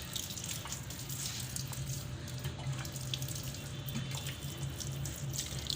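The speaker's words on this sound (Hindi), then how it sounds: "तो साथ साथ हम इनको पानी भी लगाएंगे" Tap water runs steadily and close by to water potted vegetable plants in a rooftop garden, a continuous splashing flow with a low hum underneath and no talk.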